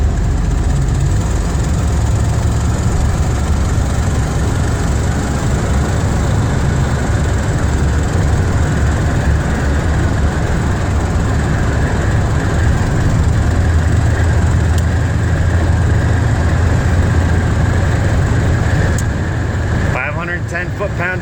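A Buick 455 big block V8 in a heavily loaded, ratty barn-find hot rod wagon drones steadily at cruise on the road, a constant low rumble with road noise. Someone talks over it throughout.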